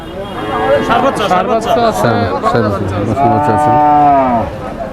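Cows at a cattle market in Kaitlala, with a close, loud, drawn-out moo and several overlapping lowing calls over a background of busy crowd chatter.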